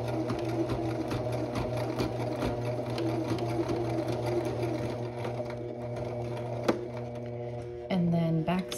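A sewing machine stitches corner to corner across a placket in a steady, close, continuous run, with a brief pause and a change in motor pitch near the end as the seam is finished.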